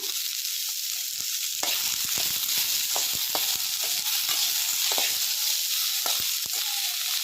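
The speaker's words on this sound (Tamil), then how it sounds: "ஒரு பீட்ரூட்டை கட் பண்ணி வச்சுருக்கோம் அதை இதோடு சேர்த்துக்கலாம்" Ginger, onion and beetroot sizzle in a pan with a constant loud frying hiss, broken by repeated clicks and scrapes of stirring.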